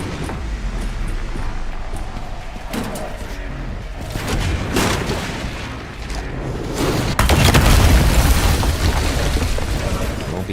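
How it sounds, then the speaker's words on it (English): Mortar explosions in a survival horror game, with booming blasts that build toward a loud, deep impact near the end amid constant rumble, and voices talking throughout. "there's another mortar"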